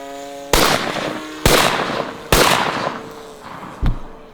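Three loud, sharp shotgun blasts fired outdoors at a DJI drone, spaced about a second apart with reverberant tails, followed by a fainter fourth report.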